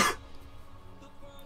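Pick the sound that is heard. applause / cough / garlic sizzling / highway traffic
cough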